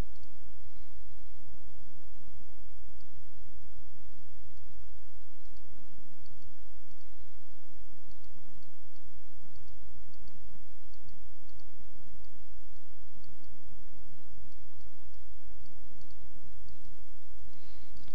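Repeated computer mouse clicks, including attempts at a right click, during Flash animation work, scattered small sharp ticks over a steady low hum across the whole stretch.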